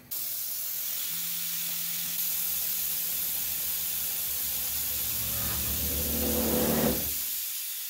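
A machine cuts countersinks into holes drilled in a steel plate for a shop press punch table, a steady whirring drone that swells into a louder grinding rasp near the end before tapering off.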